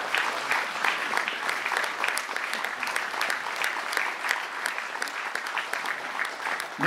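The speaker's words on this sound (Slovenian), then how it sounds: "dajmo tudi en aplavz za podmladek" An audience at a charity concert for a parish Caritas in Rovte claps steadily and warmly, a dense sustained applause that carries on throughout without pause.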